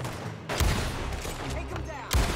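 Heavy gunfire in Red Dead Redemption 2: two big booming shots spaced about a second and a half apart, with rattling volleys and battle noise in between, loud and close.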